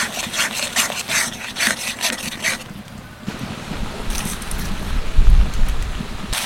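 Spiced gravy for pumpkin flowers being stirred and sautéed in a pan, with repeated scraping and rubbing strokes of a spatula over steady frying sizzle and no talk.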